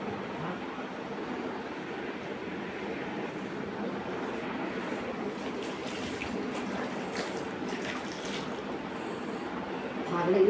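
Water runs steadily while a pot lid is scrubbed with a Scotch-Brite pad, a soft continuous splashing stream with brief scraping near the end, under quiet background voices.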